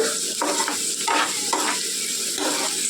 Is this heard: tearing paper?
no